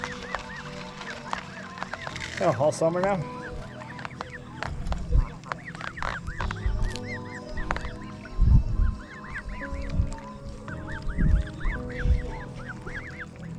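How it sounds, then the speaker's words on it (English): Geese honk repeatedly in scattered bursts, some close and loud, with splashy quacking and someone speaking briefly, at Millerton Lake. "The whole family of geese."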